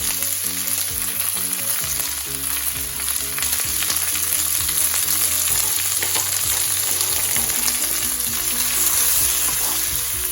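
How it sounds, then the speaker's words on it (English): Onions cook with a teaspoon of salt over a high flame for a North Indian chicken curry, giving a loud, steady sizzle near the mic. Light stirring clicks sit under it, and no one speaks. "So at high flame, we'll cook the onions until they are brown."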